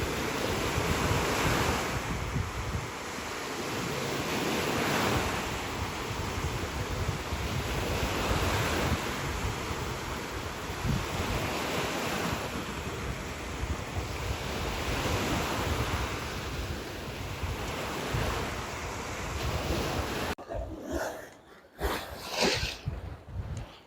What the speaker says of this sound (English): Water splashing up here like the ocean.